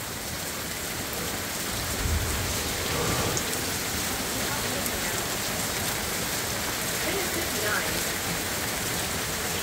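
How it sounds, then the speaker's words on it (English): Heavy rain and large hail pour down during a thunderstorm in Van Nuys, California, a dense, steady hiss with a constant patter of hail striking surfaces. "It's still hailing."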